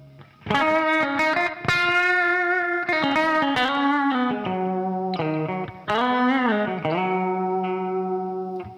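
Electric guitar with low-output pickups through a budget Sonicake chorus pedal plus distortion, playing sustained chords and bends with a shimmering, warbling modulation, loud and close with no talking.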